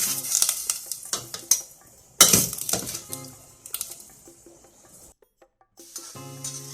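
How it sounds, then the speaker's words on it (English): Luffa sponge gourd stir-fried in a wok, with irregular scraping and clattering strokes of a spatula over a light sizzle, a sudden loud burst midway, then a near-silent pause before softer stirring resumes. "Then we start to stir-fry the Sponged-Gourd"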